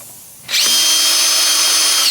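A power drill starts up and bores steadily through metal, using a half-inch plate as a template. The whine is close and loud and holds constant after a quiet start.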